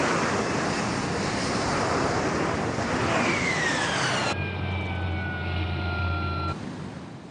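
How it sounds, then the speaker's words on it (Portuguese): A hovering Harrier jet over the sea sends out a loud, steady roar with rising whine tones, then shifts to a harsh, sustained whistling drone with a deep hum that cuts off near the end, with surf and wind beneath. "o Harrier pode pairar no mar durante 90 segundos"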